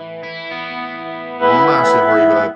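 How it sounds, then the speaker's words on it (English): Electric guitar through a Yamaha THR amp with stereo chorus, sustained shimmering chords that swell louder partway through, played alone with no talk. "Stereo chorus."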